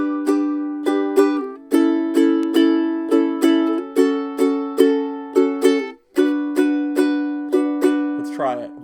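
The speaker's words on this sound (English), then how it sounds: "The final option would be to add an up-down at the end of each measure." Ukulele strumming in steady four-beat measures, each ending with a quick up-down pair of strokes, bright and close, played alone with no talk over it for a few bars.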